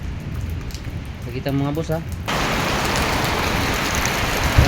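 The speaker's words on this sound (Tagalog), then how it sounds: "Mga boss, bumuhos na talaga mga boss yung ulan." Heavy rain begins pouring down, a dense steady roar of drops hitting surfaces that starts suddenly and stays loud, with someone speaking briefly just before the downpour.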